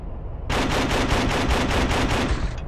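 An AAV's mounted gun fires in Project Reality on the Muttrah map. After a brief rumble, a loud, steady string of about ten heavy rounds thumps out at a regular pace.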